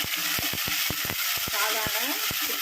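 Tomatoes tossed into a pan of frying onions and fennel for a chicken curry, giving a steady loud sizzle with sharp repeated clicks of stirring throughout.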